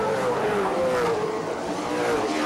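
Touring race cars, including a BMW, run through a tight left-hand corner in the 1993 Australian Touring Car Championship, a steady loud engine drone with a slowly sliding pitch that carries throughout without a break.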